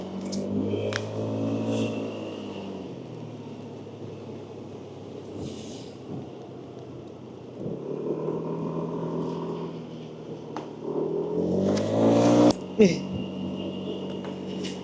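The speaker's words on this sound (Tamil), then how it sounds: "அதான் நாங்கள் பைக்கில் போகிறோம்" Steady motorbike engine drone with wind rumble throughout as the bike rides along the road, with people talking over it and a louder surge near the end.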